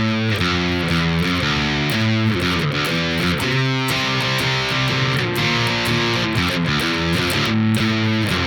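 A distorted electric guitar plays a driving riff alone, thick and loud, with steady repeated chords and quick note changes.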